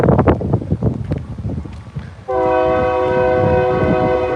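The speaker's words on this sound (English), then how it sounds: "How many more trains go by, Lawrence?" A train rolls past near a homeless camp: rumbling, clattering rail noise and wind, then a loud sustained multi-tone horn blast from about halfway through that holds steady to the end.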